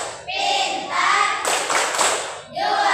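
A class of children loudly chants the 3C clap cheer in an Indonesian classroom, voices in unison broken by a quick run of sharp, synchronized claps in the middle.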